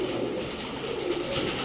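A pigeon coos at a pigeon hospital in Bengaluru, its low rolling calls steady and close against faint room noise.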